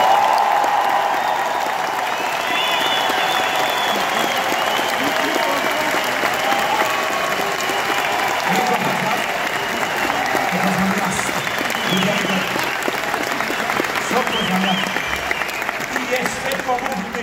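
Large audience applause in a Polish hall, a long, loud, dense sheet of clapping holding steady throughout, with crowd voices and occasional shouts underneath.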